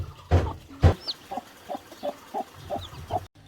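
A mother hen with her many chicks gives a series of short, evenly spaced soft clucks after two louder opening calls, with faint high chick peeps scattered over them, close by and with no talk.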